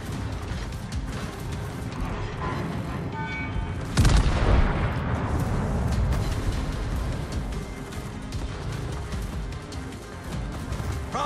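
A heavy naval artillery salvo from a Strasbourg warship in the World of Warships video game lands as one loud booming blast, followed by a long rumbling tail over a steady bed of battle noise and music.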